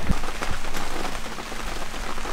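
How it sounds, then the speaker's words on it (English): Rain pattering steadily on a surface outdoors near a workshop, a dense even patter with a few sharper drops close by. "And of course it started raining."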